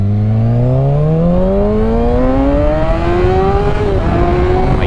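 A motorcycle accelerates hard, its loud, close engine note climbing steadily in pitch for several seconds, with a brief dip near the end as it shifts, then pulling on.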